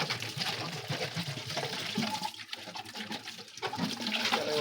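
A bottle rinsed with water at a sink, a steady splashing, gurgling wash close by with no break in the flow.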